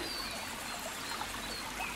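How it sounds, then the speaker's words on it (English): Steady broadband wash of a forest creek flowing over its bed, continuous and even with no break, a faint high trickling texture on top and no voices. "Here you can see how this creek looks like."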